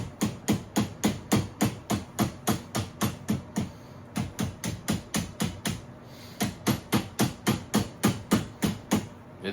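A reassembled gun clamped in a vise gets a drop test: about thirty sharp, regular tapping impacts in a steady rhythm, with a couple of brief pauses between runs.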